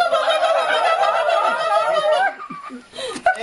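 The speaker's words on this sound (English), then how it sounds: "That was the hen." A hen cackles loudly in a dense, continuous run of squawks for about two seconds, then trails off into a few scattered, quieter clucks.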